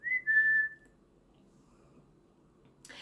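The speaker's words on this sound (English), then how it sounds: "Let's see if I can whistle" A person whistles a short steady high note, fairly loud and close, then stops; a quiet room follows with a brief soft noise at the very end.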